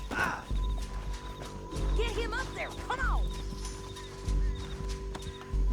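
Horses neigh and whinny repeatedly in Red Dead Redemption 2, with hooves clopping underneath and a steady low hum; a voice talks briefly over the animals.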